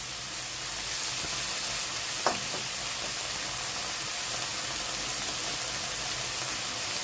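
Egg fried rice sizzling steadily in a hot pan, a continuous bright frying hiss with a faint clink or stir near the middle, no voices.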